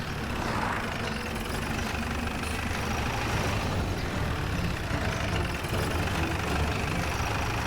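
A vehicle engine runs at steady, heavy revs, a low continuous rumble that holds fairly loud throughout with no voices.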